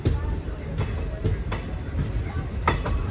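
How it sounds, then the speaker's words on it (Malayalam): A passenger train rolls slowly into Nilambur Road railway station on the Shoranur–Nilambur line, a steady low rumble broken by a few sharp clanks from the wheels and couplings. "നിലമ്പൂർ റോഡ് റെയിൽവേ സ്റ്റേഷനിൽ കയറുകയാണ്"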